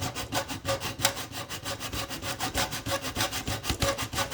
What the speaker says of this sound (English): Then we take the metal saw